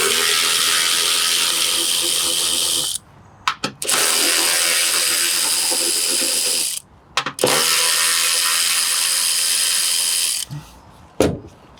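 A hand ratchet clicks rapidly in three long bursts while loosening 10 mm bolts on the cover of a John Deere ride-on mower, each burst close and sharp, separated by short pauses and a few metallic knocks.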